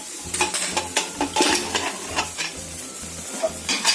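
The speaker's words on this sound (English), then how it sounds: "Saute the curry well until the raw flavor goes off from the curry." Curry for mutton biryani sizzles in a pan while a spoon stirs it, with steady close frying hiss punctuated by rhythmic scraping strokes against the metal, and no one talking.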